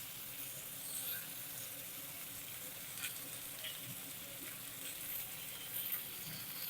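Chopped tomatoes and thin, long-sliced onions fry in a pan for a cucumber curry, giving a soft, steady sizzle that stays faint and even throughout with no voices.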